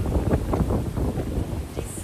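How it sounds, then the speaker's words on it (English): Strong wind buffets the microphone outdoors in a low, continuous rumble that swells and gusts throughout, with voices faintly under it. "It is so windy."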